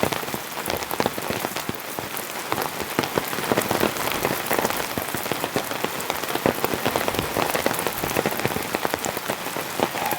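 Heavy rain drums steadily on a van roof during a rainstorm, a dense, continuous patter of drops with no voices, loud and close throughout.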